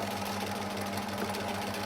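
A sewing machine stitches around the edge of a fabric face mask, a brief, steady low motor hum with even rapid needle pulsing, heard close and alone.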